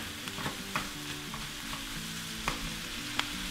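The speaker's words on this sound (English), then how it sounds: "So I just let that saute through on a lowish heat, medium heat." Garlic sautéing in a pan over low to medium heat, a continuous gentle sizzle with occasional stirring scrapes and soft taps, close and fairly quiet, no voices.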